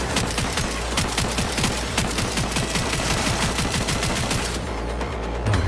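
Rapid pistol gunfire in the video game Cyberpunk 2077, a dense, continuous string of sharp shots firing in quick succession at a loud, even level.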